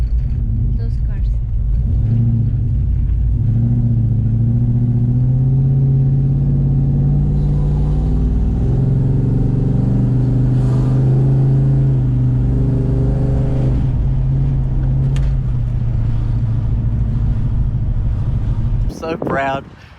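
Holden VN Commodore with an LS1 V8 engine being driven, a deep steady engine drone heard from inside that rises and falls through the gears, with a louder rev building near the end.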